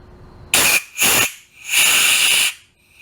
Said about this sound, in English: We'll spray a little air in there to speed this up.